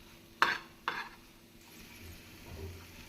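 Masala for pav bhaji is sautéed in a pan over medium heat. Two sharp spoon clinks against the pan come first, then quieter scraping and stirring over a faint low sizzle.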